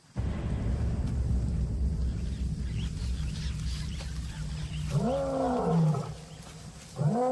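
A male lion roars in the Botswana wild, a deep strained call that swells and falls near the end against a steady low rumble of open-air background, with a second roar beginning as the recording cuts off.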